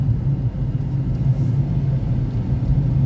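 Inside a moving car on a village trip there is a steady low rumble of engine and road noise, constant and fairly loud throughout.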